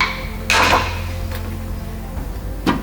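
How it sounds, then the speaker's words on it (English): Tie-down hooks being worked out of the rear floor of a VW Transporter T5 van, giving a loud metallic knock followed by a few lighter taps and a final sharp clank, with no talking. "just taking out the tie down hooks"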